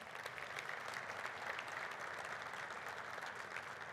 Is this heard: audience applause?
yes